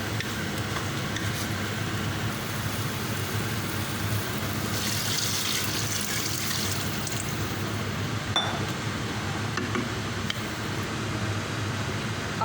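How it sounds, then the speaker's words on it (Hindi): Water poured into washed moong dal in a cooking pot, a steady close splashing and trickling with faint glassy clinks, lasting several seconds without speech. "अब इसमें पानी डाल के और धीमी आंच पे रख दूँगी"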